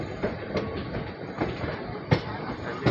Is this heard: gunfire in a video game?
no